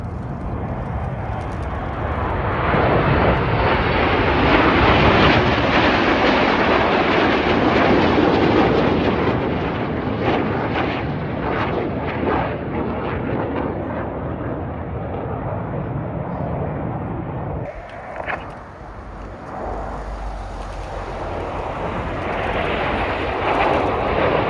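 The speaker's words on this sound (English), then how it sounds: "The aircraft split in front of us, reds 1, 2 and 3 are out to our left" Red Arrows display jets roar past at the RAF Cosford air show, a loud sustained jet rumble that swells and slowly fades before a second wave of engine noise builds, heard from the crowd line with no voices.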